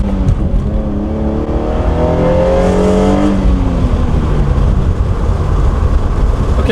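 A modified Hyundai Genesis Coupe 3.8 V6 accelerates hard in first gear, its engine note rising steadily in pitch as it revs up, loud and close, then dropping away into a rough, blaring drone.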